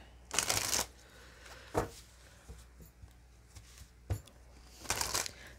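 An Iris Oracle deck of cards is shuffled in short riffling bursts, with a strong flurry at the start, another near the end and a few soft taps and card slaps between them, in a quiet room.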